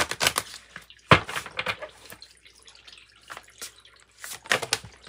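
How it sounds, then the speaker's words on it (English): A deck of tarot and oracle cards is shuffled close by in short, dry riffling bursts separated by quiet pauses. "Let's shuffle."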